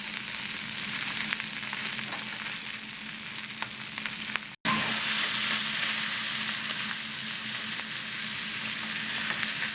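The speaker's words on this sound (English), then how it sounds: "we'll heat up the brandy and give it a bit of a flambe" Chicken in brandy sizzles and fries loudly in a pan, flambéed and sautéed, a steady hiss that cuts out briefly midway and then returns even stronger.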